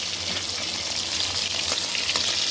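Fish frying in a pan gives a close, steady sizzle and crackle of hot oil throughout, with no talking.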